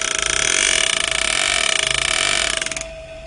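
A card held against a spinning drive shaft flaps rapidly in a loud, steady ratcheting buzz for under three seconds before cutting off abruptly, with no voices.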